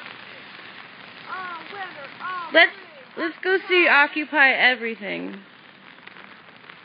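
Rain falling outdoors at an Occupy gathering, a faint steady patter running throughout beneath people talking loudly in the foreground.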